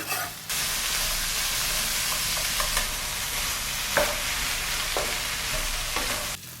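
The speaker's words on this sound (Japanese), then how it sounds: "もう全部いっぺんに炒めちゃいます。" Onions and bacon stir-fried together in butter in a pan, a steady loud sizzle and hiss running throughout with occasional louder clatters of stirring, then cutting off near the end.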